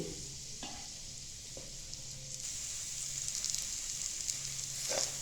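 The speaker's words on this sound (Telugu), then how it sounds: "అంతా కూడా ఒక 2 నిమిషాల పాటు దగ్గరుండే కలుపుకుంటూ ఉండాలండి." Date paste being stirred in ghee in a pan, with a steady soft sizzle and scraping strokes of the spoon throughout, close and fairly quiet with a few brief clicks.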